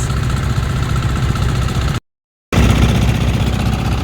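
A fishing boat's engine gives a steady, loud drone with a low rumble, running continuously, briefly cut off by a short gap before resuming.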